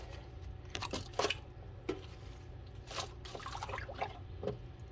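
Hoya plant cuttings are dropped into a warm water bath: several soft plops and splashes come in irregular bursts over a quiet trickling background, close but faint.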